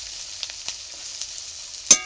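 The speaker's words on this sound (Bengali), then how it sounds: "আমার পেঁয়াজ ভাজা হয়ে গেছে" Onions frying in a pan give a soft, steady sizzle with a few faint crackles, ending in one sharp clink of a utensil.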